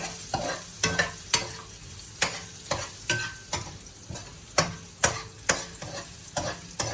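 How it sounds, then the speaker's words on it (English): Onions and turmeric frying in a pot for rasam are stirred with a spoon: about a dozen sharp, regular scraping strokes over a steady sizzle, close and clear with no talk. "Then we stir it all up again."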